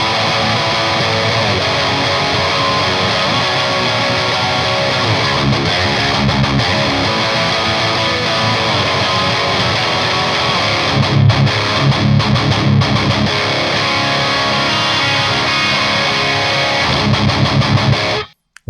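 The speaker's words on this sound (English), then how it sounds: "I've grabbed my Henry's Music Snake 2, kind of a Strat with the humbucker in the bridge." Distorted electric guitar, a Henry's Music Snake 2 Strat-style with a bridge humbucker, played through a Victory Kraken amp: thick, saturated riffing that stays loud and sustained throughout, then cuts off abruptly at the end.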